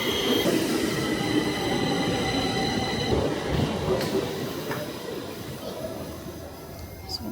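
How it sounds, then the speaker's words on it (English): A Stockholm subway train rumbles and squeals along the rails into a station with high metallic wheel screeches, a steady loud roar that slowly eases. "The next train that's coming is the Odenplan train"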